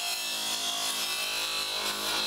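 A die grinder fitted with an 80 grit flap wheel polishes the metal of a two-stroke exhaust pipe, giving a steady, loud, high abrasive whir that runs continuously and alone.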